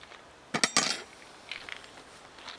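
A metal knife and spoon are set down with a few sharp clinks in quick succession, followed by softer faint taps from small camping gear.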